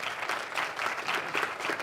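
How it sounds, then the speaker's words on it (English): A church congregation breaks into applause during a service, a steady wash of many hands clapping at moderate volume. "Let's clap"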